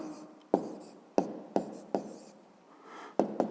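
A pen writes an answer by hand on paper, a series of sharp scratchy strokes, about seven, in an uneven rhythm, close and quiet with no voices.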